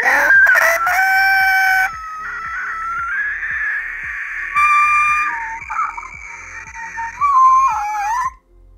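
A voice imitating a Nazgul lets out a long, wavering, piercing shriek over a steady rhythmic beat, rising and falling in pitch before cutting off abruptly.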